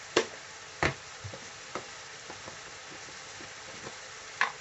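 Onions frying and caramelising in a pan for a chicken jalfrezi, a soft continuous sizzle broken by a few sharp crackles and stirring knocks, close and fairly quiet with no talk.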